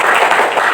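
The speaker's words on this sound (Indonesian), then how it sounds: "Tepuk tangan untuk kita semua." A school class applauds in a brief, dense burst of clapping, steady and fairly loud, with no talk over it.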